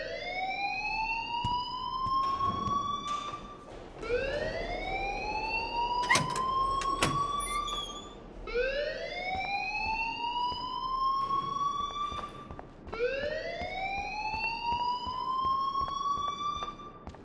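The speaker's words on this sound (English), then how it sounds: "please turn off that alarm since that's your job" A rising, whooping electronic alarm from the video game Life is Strange, sweeping upward in four long repeated cycles, loud and steady with no talk over it.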